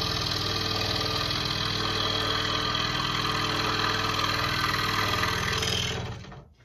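Scroll saw cutting wood and pivoting at a corner, a steady loud motorized buzz with a fast reciprocating rattle that runs evenly, then winds down and stops near the end.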